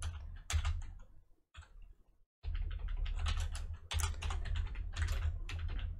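Close computer keyboard typing while deleting code, with bursts of rapid key clicks and repeated presses, a brief pause, then continued steady tapping.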